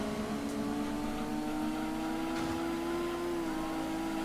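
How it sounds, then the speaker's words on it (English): A Corvette's engine revs in the Gran Turismo 2 racing game, a steady droning hum that rises slightly in pitch, fairly faint and continuous with no talking. "This Corvette does not sound right at all."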